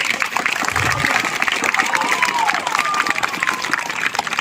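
Audience applause fills the space, dense steady clapping from a crowd with some voices mixed in, loud and continuous throughout.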